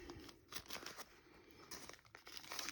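Plastic packaging around a USB cable is crinkled and torn open close by, with faint, quiet rustling and crackling in short bursts.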